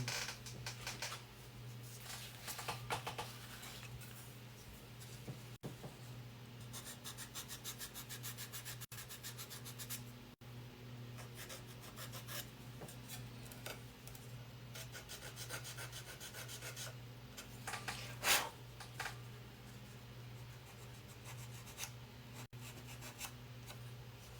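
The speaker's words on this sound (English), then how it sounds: "let's do a little sanding" Hand sanding on wood: repeated rasping, scratchy strokes in an uneven back-and-forth rhythm, close and fairly quiet over a faint hum.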